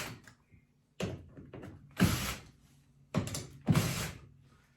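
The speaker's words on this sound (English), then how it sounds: "I'm going to take these screws out of my frame" Screws being backed out of a frame used for making fishing-lure stencils, several separate bursts of close ratcheting, grinding mechanical noise with quiet pauses between them.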